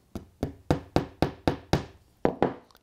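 A hammer drives a tack into model railway track at the point actuator arm hole, eight sharp, close wooden knocks in a steady rhythm with a brief pause before the last two.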